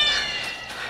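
A black cat meows once, a single close, fairly loud mewing call with a bright, harmonic tone held for about a second with no other sound.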